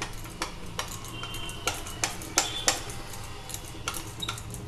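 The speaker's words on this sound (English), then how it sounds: "Now we have to whisk the cake mixture vigorously like this so that there should be no lumps in the" Vigorous whisking of eggless semolina cake batter in a bowl, with quick irregular clinks and taps of the whisk against the bowl's side over a steady scraping stir, close and fairly quiet.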